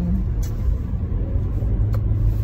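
Steady low engine rumble and road noise inside a moving car on a spring day with melting snow, continuous and fairly quiet, with no one talking.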